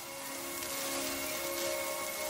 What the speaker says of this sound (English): it started to rain outside